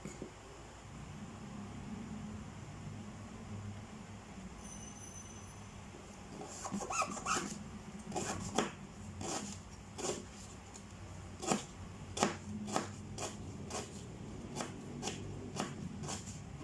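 A knife chops lemongrass, shallots and chili on a board: a quiet start, then a run of irregular crisp close taps and cuts over a low background hum.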